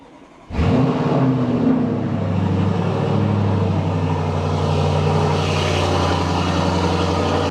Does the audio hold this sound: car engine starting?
yes